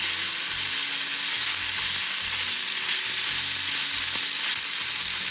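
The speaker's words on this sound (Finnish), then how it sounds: "Pikkasen koittaa paistaa siihen pintaan, niin tulee hyvä." Pork fillet sizzles steadily in a hot pan, a dense, even crackle of frying fat that continues without pause and with no voices over it.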